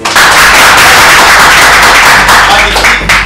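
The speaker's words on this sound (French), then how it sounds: "On applaudit encore pour Horace." Studio audience at a French-language TV word game show applauds the winning champion: loud, dense, sustained clapping that fills the whole stretch without a break and with no talk.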